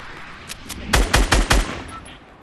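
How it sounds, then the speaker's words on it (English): Sniper gunfire in the Fortnite battle royale game: two faint distant cracks, then four loud booming shots in quick succession, tailing off into quiet ambience. "I'm being sniped"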